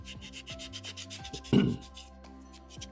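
Sandpaper rubs against a soapstone skull carving, steady scratchy strokes under a thumb, close and quiet, with one louder scrape partway through.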